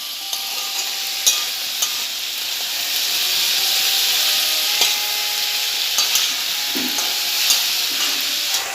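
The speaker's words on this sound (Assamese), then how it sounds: "এইখিনি ভালকৈ মিক্স কৰি ল'ম।" Wild cardamom stems and turmeric sizzle loudly in a frying pan, with a steady hiss broken by occasional scraping knocks from a spoon stirring the mix, close and without speech.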